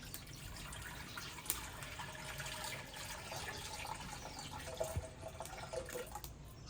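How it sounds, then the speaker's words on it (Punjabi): Water runs into a karahi set over a village wood fire, a faint continuous trickle and splash with a few small drips, quiet and wordless. "ਇਹਦੇ ਵਿੱਚ ਨਾ ਪਾਣੀ ਪਾਵਾਂਗੀ।"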